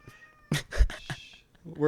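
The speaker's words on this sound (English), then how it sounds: "This is a tough ass cat." A cat meows several times in quick succession, loud and close, and a voice comes in at the end.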